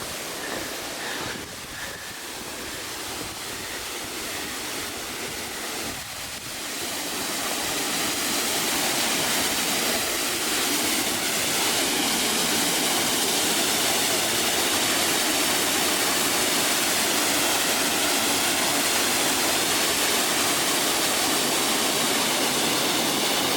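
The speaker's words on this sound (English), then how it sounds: "I didn't know we were going to get a waterfall." A waterfall along a Colorado Trail hiking route roars continuously, growing louder and nearer after the first few seconds into a dense, steady wash of falling water, with some wind.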